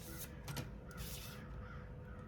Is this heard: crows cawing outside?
yes